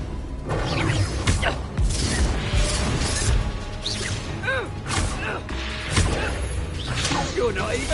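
Hogwarts Legacy spell combat with Arresto Momentum, Glacis and Bombarda casts: rapid whooshes, cracks and thuds layered over game music, with a voice shouting spell names throughout.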